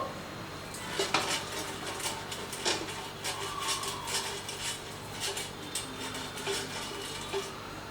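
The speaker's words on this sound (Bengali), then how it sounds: "এয়ার ফ্রায়ারের মধ্যে দিয়ে দিচ্ছি একটুখানি তেল। তেলটাকে ব্রাশ করে দেব।" Oil brushed around the inside of an air fryer basket before chicken tikka pieces go in, with soft scattered scrapes, light metallic taps and clinks at close range, fairly quiet throughout.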